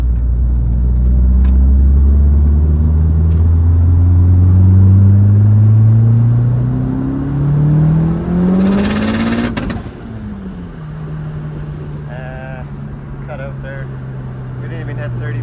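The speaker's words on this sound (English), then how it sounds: "do a quick little pull here and see what our target boost is" A turbocharged 2G DSM engine makes a boost pull at about 30 psi on a stock block: a loud, rising roar that climbs in pitch, cuts off sharply, then drops back to a steady idle drone with brief clicks.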